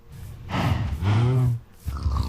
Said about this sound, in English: And the pigs.